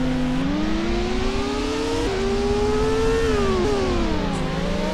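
A Formula race car in the open-source racing simulator TORCS drones loudly and steadily, its engine pitch rising and dipping with gear shifts and throttle changes, alone without voices.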